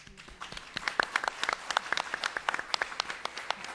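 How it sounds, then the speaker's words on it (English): Applause from a conference audience at a leadership summit, a scattered patter of individual claps building to a steady round, moderately close and without talk. "Please, another round of applause."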